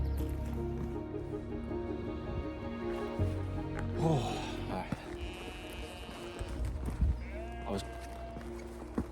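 Sheep in the Lake District countryside bleat back and forth at each other in several calls of varying pitch, close by, with occasional knocks and rustles around them.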